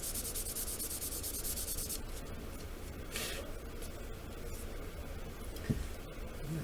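Sandpaper rubs steadily over the seams of a plastic model Klingon D7 battle cruiser kit, a continuous close scratching broken by brief pauses and one sharp tap near the end, with no talking.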